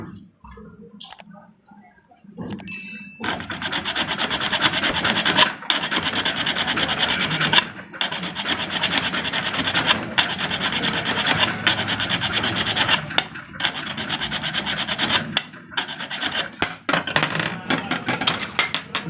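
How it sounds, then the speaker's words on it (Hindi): A rasp file works a sewing machine part with steady, continuous scraping strokes, heard close and loud for most of the stretch after a quiet start, with a few brief pauses between passes. "ये देखें कहाँ से मैं रेती लगा रहा हूँ"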